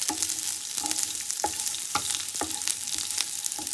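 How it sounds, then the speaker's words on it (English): Onions stir-fried in a pan for chicken jalfrezi, a steady close sizzle broken by regular scraping strokes of the spatula about every half second, loud and with no talking. "we're going to add in our onions, and we're going to stir fry these as well"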